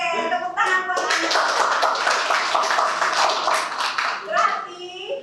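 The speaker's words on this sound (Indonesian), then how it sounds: "tepuk tangan buat anak" Classroom applause from students, steady many-handed clapping lasting several seconds with voices briefly heard at the start and end.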